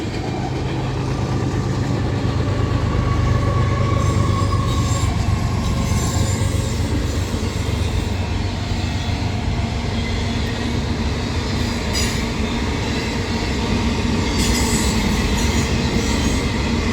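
A long freight train rolls steadily past near the Destiny USA mall in Syracuse, New York, a loud continuous rumble of wheels and cars with occasional squeals and clacks, no talking.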